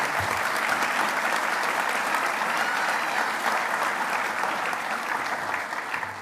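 Sustained, steady applause from the crowd at a police academy graduation ceremony, dense and fairly loud throughout, easing slightly toward the end.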